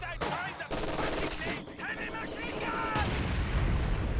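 Mortar fire and explosions in the game Company of Heroes 2 during a multiplayer match, repeated booming blasts and gunfire crackle under a caster's ongoing commentary.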